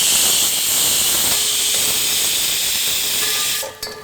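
A pressure cooker cooking mutton for saag meat vents steam, a loud sustained close hiss that holds steady for several seconds, then fades into a brief clatter at the end.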